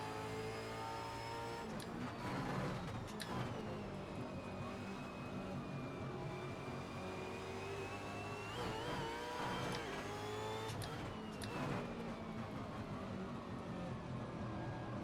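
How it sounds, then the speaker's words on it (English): A V8 Supercar engine in the Assetto Corsa racing game at Hidden Valley screams at high revs and bounces off the rev limiter along the straight, loud and continuous. "As you can hear, we're into the limiter on the straight."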